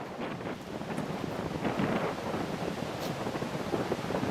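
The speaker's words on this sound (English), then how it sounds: "It's a field that's been planted, and there's plenty of wind." Strong wind blows across a planted field on the Pratzen Heights battlefield, a constant roaring buffet against the microphone, loud and close with no voices.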